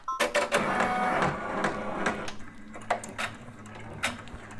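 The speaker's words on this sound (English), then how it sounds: "So you guys, I'm gonna be embroidering right now." An embroidery machine stitching a placement line on fleece gives a close, mechanical whirring and rattling run with rhythmic clacks that thin out into separate ticks and knocks.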